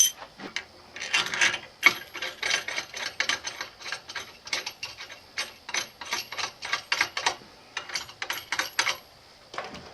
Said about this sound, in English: going to tighten up these nuts.